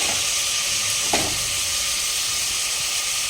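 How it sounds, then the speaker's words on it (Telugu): Onion pieces drop into a prawn curry cooking in a pan, setting off a steady, close sizzle with a brief burst of activity as they go in, no voices. "ఇప్పుడు ఇందులో ఉల్లిపాయ ముక్కలు వేసేది కూరలో"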